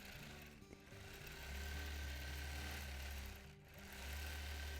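A sewing machine free-motion quilting a quilt runs in a steady, fast mechanical whir with a low hum, briefly easing off and then picking back up, close and without talk.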